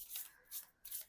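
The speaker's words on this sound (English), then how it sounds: "This is another deck that I can't riffle shuffle, so I usually just overhand it." A deck of tarot cards being overhand shuffled gives three soft, quick papery swishes in a row, faint and close with nothing else around.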